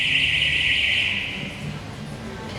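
Shop alarm going off, a loud sustained high-pitched electronic tone that holds steady and then fades and stops partway through, over faint room noise.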